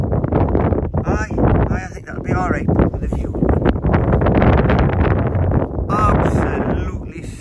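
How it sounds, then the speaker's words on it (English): Gusty wind buffets the microphone with a broad, steady roar while a person talks over it. "It's windy in there, like, granted"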